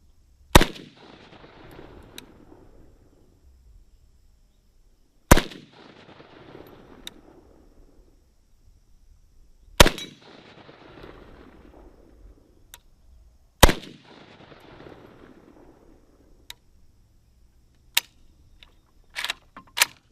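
Four loud gunshots from Draco pistols fired at a steel target outdoors, spaced about four to five seconds apart, each with a long decaying echo, followed by a few faint clicks.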